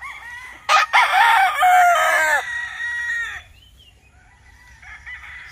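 A Sweater Kelso gamecock crows once, loud and close, at a game farm. The call is a single strong cock-a-doodle-doo with a ragged trailing end, followed by faint clucking and quiet background.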